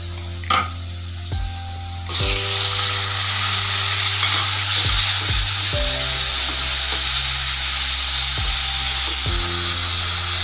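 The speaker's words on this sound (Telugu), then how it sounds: "ఇప్పుడు ఇందులో మనం టమాటా ముక్కలు పోసేసుకుందాం." Tomato pieces frying with onions in a pan for an okra curry: a quiet start, a clatter, then a loud, dense sizzle that jumps in around two seconds and holds steady, with scattered utensil clinks and a low hum beneath.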